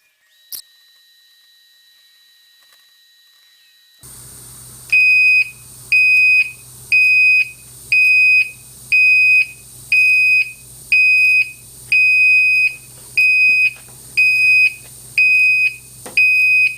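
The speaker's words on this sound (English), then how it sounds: "let's take a look at what the alarm does when it goes off right now" A smoke alarm on a home alert setup goes off with a loud, regular beeping, about a dozen evenly spaced shrill pulses over a steady hum, after a few seconds of near silence.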